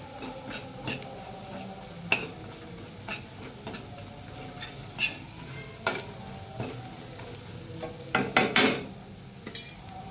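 Bitter gourd pieces deep frying in oil, a soft steady sizzle broken by irregular clinks and scrapes of a utensil against the pan, with a quick cluster of louder knocks near the end; no talking.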